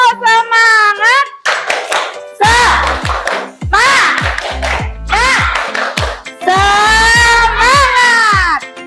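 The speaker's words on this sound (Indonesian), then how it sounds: "Tepuk semangat." Schoolchildren in a fourth-grade classroom chant loudly together while clapping a rhythmic group spirit clap, sharp hand claps falling in patterned bursts under their shouted voices.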